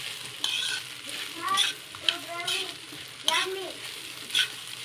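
Leftover rice seasoned with salt fries in a pan with a steady sizzle, as a spatula stirs and scrapes it in repeated strokes. A voice sounds faintly underneath.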